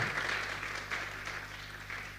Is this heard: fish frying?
no